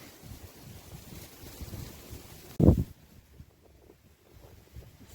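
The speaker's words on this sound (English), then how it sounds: "it's pretty windy today" Outdoor wind rumbling against the microphone, low and gusty, with one brief loud buffet midway before it settles to a quieter hiss.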